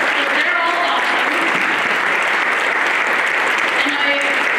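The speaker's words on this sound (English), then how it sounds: "I want you guys to give them a round of applause" Sustained audience applause at a women's soccer Hall of Fame ceremony, steady and dense clapping from a large crowd filling the whole span, with faint voices mixed underneath.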